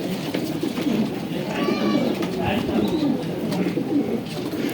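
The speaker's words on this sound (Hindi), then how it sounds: "बहुत खूबसूरत कबूतर है" Deobandi and bajrai breed pigeons cooing close by in a steady soft burble, with a voice talking over them.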